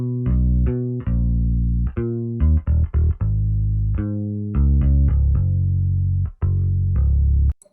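Deep synth bass line from a beat, loud, thick low notes in a bouncy rhythm of sustained and short staccato hits with a chorus-like sheen, playing alone without talk.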